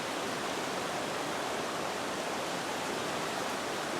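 A flowing river in Oregon rushes as a constant, even broadband wash of water, close and unchanging throughout, with no voices.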